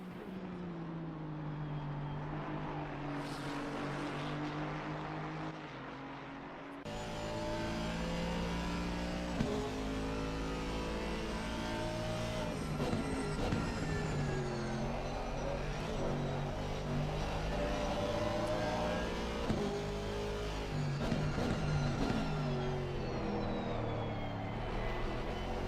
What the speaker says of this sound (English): Do love the sound of this Aston. My favorite GT3 cars. V8 Vantage.